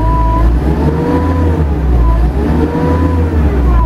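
A Takeuchi TL12 skid steer's diesel engine roars at full throttle, loud and close, with a steady droning pitch that swells and dips slightly in regular cycles.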